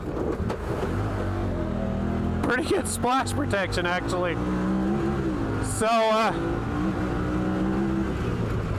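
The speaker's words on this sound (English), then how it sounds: "It's kind of cool listening to this engine figuring out where it wants to be." Honda Talon 1000R side-by-side's engine running and shifting on its own during a ride, a steady loud drone with changing revs, with someone talking over it and splashing bursts.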